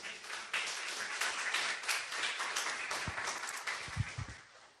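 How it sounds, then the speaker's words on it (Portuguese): A church congregation breaks into applause during a Portuguese-language sermon, a dense wash of clapping that is fairly faint and distant and fades toward the end, with a few louder claps close by. "Eu queria que você aplaudisse Jesus se você quisesse."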